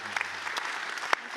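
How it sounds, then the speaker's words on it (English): Audience applause at a tech summit livestream, a steady patter of many hands clapping at moderate distance, with a couple of sharper individual claps standing out near the end. "A huge round of applause to all of you."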